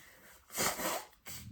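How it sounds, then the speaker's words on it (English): One person sneezes twice, apparently from hay fever: a sharp, breathy burst followed shortly by a second, slightly shorter sneeze, close to the microphone, with no speech. "I'm always sneezing"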